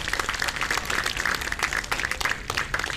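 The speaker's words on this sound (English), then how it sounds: "please give Laura Paidless on target number 1 a round of applause" Crowd applauds the women's recurve silver medalist at an archery championship finals, a lively round of clapping with audible individual claps, moderately close and steady throughout.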